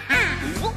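A voice imitates a duck in a children's sing-along, giving a nasal, drawn-out quack over a soft musical backing.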